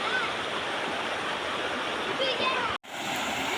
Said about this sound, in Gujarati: આ છે તળાવ જેવું વહેતું પાણી